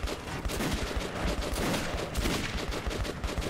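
Gunfire in the Metro 2033 Redux video game, a dense burst of rapid shots crackling continuously and loudly for a few seconds with no talk over it.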